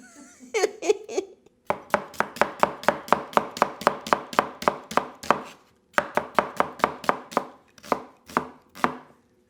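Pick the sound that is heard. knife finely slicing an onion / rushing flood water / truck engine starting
knife finely slicing an onion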